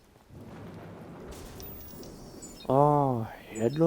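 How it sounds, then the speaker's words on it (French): Rain in the video game Watch Dogs, a steady broadband hiss of falling water for a few seconds before a voice briefly speaks over it. "Évidemment, il pleut toujours."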